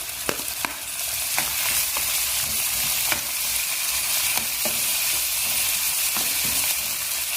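Onion and tomato fry in a pan for a bottle gourd stir-fry, giving a steady close sizzle broken by scattered stirring clicks and scrapes, with no voices.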